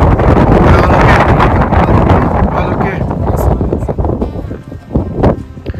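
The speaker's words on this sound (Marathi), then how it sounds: "एवढं प्रचंड वारा आहे इथे नकिला पासला" Strong wind roars and buffets the microphone at Nakee La mountain pass on the high road near the Gata Loops, a continuous loud rush that swells and eases, with a voice talking over it.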